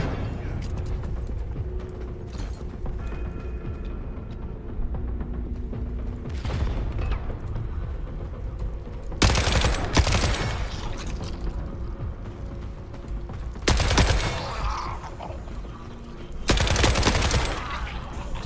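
Grenade launcher blasts and gunfire in the shooter game The Forever Winter, set in tunnels: three or four loud booming explosions spaced several seconds apart, with scattered weapon handling clicks and shots between them.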